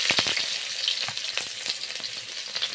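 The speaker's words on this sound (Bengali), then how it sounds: "পেঁয়াজ কষে দিয়ে দিচ্ছি" Onions frying in hot oil in a wok, a steady bright sizzle with crackles and a few sharp stirring scrapes, close and continuous with no talk.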